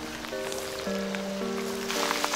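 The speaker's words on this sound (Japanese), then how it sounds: "めっちゃ雨が来てる。" Heavy rain pours down at the Aono Dam reservoir during a bass fishing outing, a steady hiss of falling water with a few sustained tones running through it.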